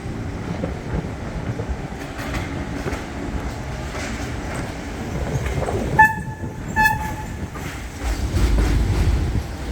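An NYC subway R68A train rolls through with a steady loud rumble and rail noise, a few short horn-like tonal toots sounding partway through before the rumble swells again.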